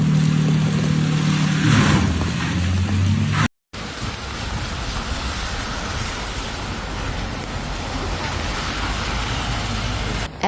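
Heavy rain pours steadily during severe flooding in Brisbane, Australia, a dense, even hiss of falling water that holds near and loud throughout, briefly cut off once, with a deeper rumble underneath at the start.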